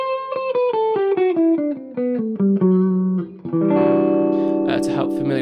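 Electric guitar finger tapping with distortion and reverb: a tapped chord whose notes ring out in a steady rhythmic pattern, then a run of single notes through the scale in a math rock, Midwest emo style, alone and clear.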